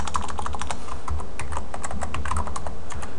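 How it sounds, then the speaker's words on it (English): Rapid, steady keystrokes on a computer keyboard as a username is entered while setting up an OpenSSH connection between Ubuntu and Windows, close and dry, with no talking. "So we'll go ahead and type this in."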